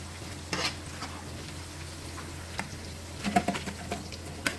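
Shrimp frying in a pan, stirred now and then, with a quiet steady sizzle broken by scattered scraping taps and a short cluster of stirring clatter near the end.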